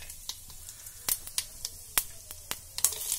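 Asafoetida drops into hot oil already holding cumin, cloves and cinnamon, giving a quiet sizzle with scattered sharp crackles and pops at irregular intervals.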